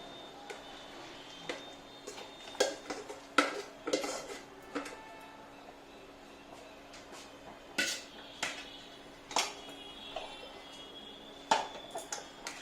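A spoon stirs and scrapes a palm kheer mixture of palm pulp, thickened milk kheer and sugar in a metal pot, giving irregular clinks and knocks spread across the stretch with quiet gaps between.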